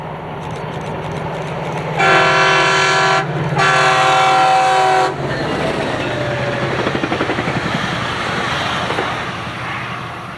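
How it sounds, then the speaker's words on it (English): Northbound FrontRunner commuter train led by MP36 locomotive 18, a loud horn sounding in two long blasts, then engine and wheel rumble as it passes close by. "Our final train of the day would be a northbound FrontRunner with MP36 18 leading."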